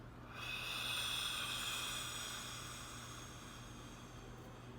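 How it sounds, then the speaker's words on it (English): A single long, steady exhale through the mouth during a breathing exercise: a breathy, airy rush that swells in the first second and slowly tapers off, heard alone in a quiet room. "And breathing out through your mouth."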